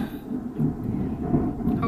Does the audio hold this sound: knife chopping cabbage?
no